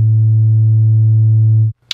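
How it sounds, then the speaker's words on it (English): A pure 110 Hz sine wave with no overtones hums steadily and loudly for under two seconds, then cuts off abruptly, followed by a faint click. "This particular fundamental frequency is at 110 hertz, and it sounds like this."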